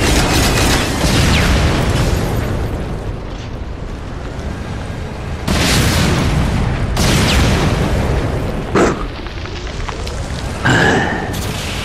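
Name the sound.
explosions in video game Ghost Recon Online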